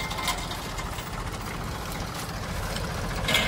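A Mahindra 265 DI tractor engine idles steadily and close by, a continuous low rumble with a fast regular knock that holds even throughout with no pauses.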